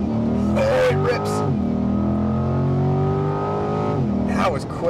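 A 2020 Chevrolet Corvette launches hard from a standstill using launch control, its engine revving up through rising gear pulls with brief shift dips, loud and close inside the cabin, with a person speaking over it.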